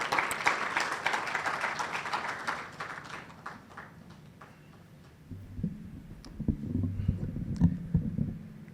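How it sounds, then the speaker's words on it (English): Audience applause at an annual memorial lecture starts loud and dense, then thins out and dies away after a few seconds, leaving scattered claps and low rumbling room noise with shuffling movement. "A warm round of applause, please,"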